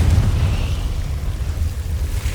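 A deep, rumbling blast from the Confringo explosive spell in Hogwarts Legacy, loudest at the start and then trailing off into a low rolling rumble.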